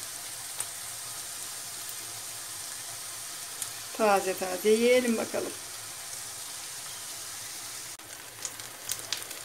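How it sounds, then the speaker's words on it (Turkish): Soft steady sizzling of eggplant frying in oil fills the background while a person speaks briefly in Turkish in the middle. "Kahvaltılıkların yanına şöyle biraz getirdiğim patlıcandan kızartmak istedim."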